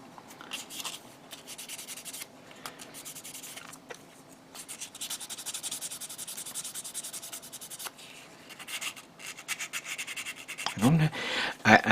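Sandpaper of 600 grit rubs steadily over a small plastic model part, a close, continuous scratchy hiss with soft back-and-forth strokes and a louder handling knock near the end.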